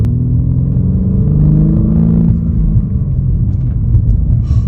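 A 2022 BMW M4 with a manual transmission runs loud and close, its deep engine rumble rising and settling as it revs through the gears, steady throughout with no talking.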